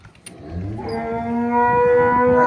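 Frieswal Cholistani heifer and calf mooing at a farm, a long drawn-out low moo swelling steadily and holding loud to the end, with a brief sharp knock near the start.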